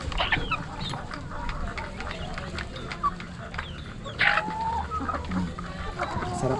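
Chickens clucking inside a coop at close range, with scattered squawks and short calls over a soft, steady farmyard background.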